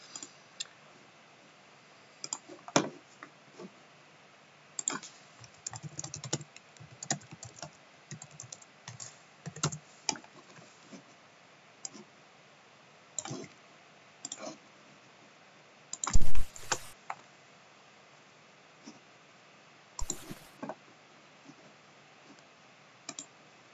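Steady typing on a computer keyboard fills the space, irregular bursts of close key clicks with short pauses and a few louder thumps, heard without any talk.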